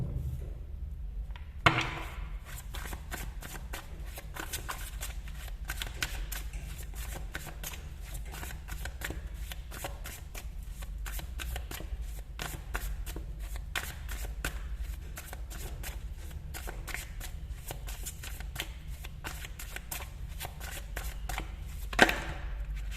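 Tarot cards being shuffled by hand, a long run of rapid riffling and flicking close up with a couple of sharp taps, fairly quiet and without talk.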